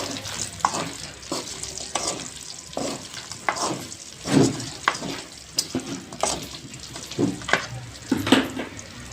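Chicken sizzles steadily in a hot pan, half-fried, while food colouring is added. A broadband hiss runs throughout, broken by frequent scraping stirs and clinks at a close, moderate level.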